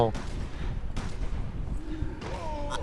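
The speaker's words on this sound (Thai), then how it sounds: "ลบบิ๊กจะปาระเบิดแล้ว" Explosions from the video game Resident Evil 6 go off as a few heavy booming blasts at moderate volume, with game effects and a rising tone near the end.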